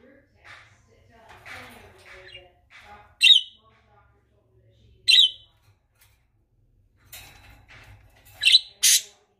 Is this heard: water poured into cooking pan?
no